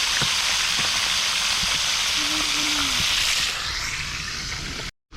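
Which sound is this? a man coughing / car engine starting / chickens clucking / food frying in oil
food frying in oil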